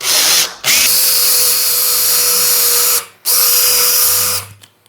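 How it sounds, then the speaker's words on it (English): A power drill with a countersink bit is cutting out pilot holes in the edge of a door for a latch and handle. It whines loudly and steadily in three runs with two brief stops, then spins down at the end. "Put that in your drill, and then you just want to countersink out these two holes."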